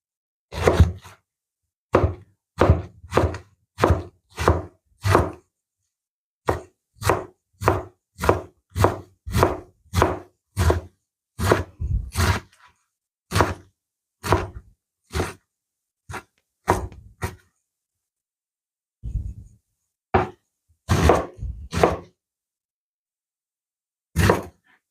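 Sharp, rhythmic knife chops on a cutting board, in quick bursts with short pauses between runs, close and clear with no talking.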